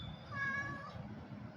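A single drawn-out cat meow, close and clear, rising then falling over about a second, with a low background rumble.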